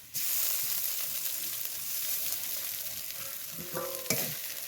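Chopped onion, garlic and ginger fry in a pan, giving a steady loud sizzle while being stirred, with a brief metallic clink near the end.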